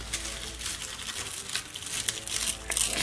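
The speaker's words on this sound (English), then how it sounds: "I just like to rip it open" Wrapping paper crinkles and tears as a present is ripped open, a close, continuous rustling crackle with sharper tearing bursts toward the end, moderately quiet and without speech.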